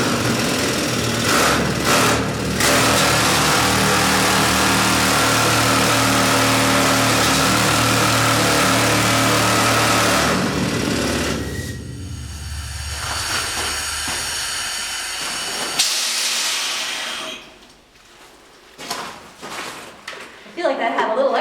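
An old mining machine in the Britannia copper mine, fired up and running loud with a heavy, hissing, clattering roar that cuts off partway through, then leaves faint rattles and sparse voices.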